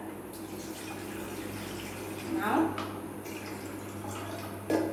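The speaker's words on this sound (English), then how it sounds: "I'm going to drain off the water" Water pours and drips out of a cooking pot of soaked brinjals as it is drained at a sink, a gentle running trickle with a couple of louder splashes, while a person speaks briefly.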